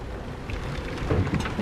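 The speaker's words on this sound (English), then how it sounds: "It's super windy and super rainy today." Wind and rain buffet a sailboat, a loud, rough rush of gusts and patter close to the microphone with a few brief louder bumps, over a short stretch.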